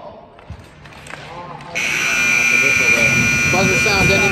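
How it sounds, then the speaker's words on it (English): A loud, sustained electronic buzzer ending the first period of an ice hockey game blares and holds, over arena crowd noise and a commentator talking. "Buzzer sound ending the first period."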